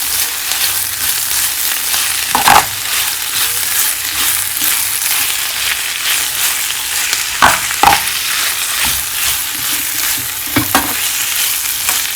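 Diced chili fries in a pan with very little oil for Chinese fried rice, giving a steady bright sizzle, with occasional scraping thumps of stirring at intervals, close and continuous.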